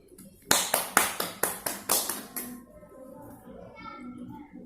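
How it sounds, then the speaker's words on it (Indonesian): Children in a classroom clap together in a quick burst of about nine sharp, even claps, loud and close, then fade into soft murmuring voices. "tepuk tangan untuk Budi."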